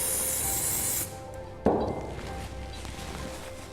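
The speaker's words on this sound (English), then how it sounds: "first we need to clean the sample to get rid of any grease or dirt" A burst of cleaner sprays onto a metal test sample to strip grease, a steady hiss that cuts off after about a second, then a sharp knock and faint handling noises in a quiet materials lab.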